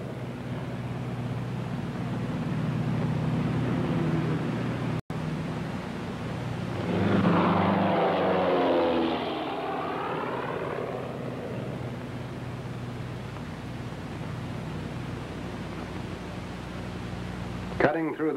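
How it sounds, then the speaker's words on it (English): C-47 transport planes fly over while dropping supplies, a droning engine roar that swells and fades as one passes overhead, mixed with a narrator's voice and steady background hiss. "C-47s drop supplies to the marauders encamped at Kachin Village."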